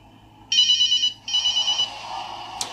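A phone rings nearby with two bright electronic trills separated by a short gap. The second ring trails off into quiet room noise with a small click at the end. No one speaks.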